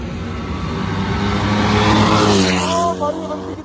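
A BMW GT motorcycle accelerates past on a road with a loud, rising engine roar that peaks near the middle. The roar then fades as the bike pulls away.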